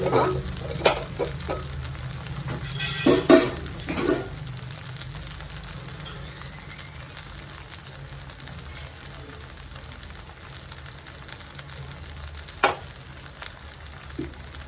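Sooji wheat uppumavu is stirred in a pan, with a steady low sizzle and a cluster of quick scraping spoon strokes early on, then a quieter simmer broken by one more scrape later.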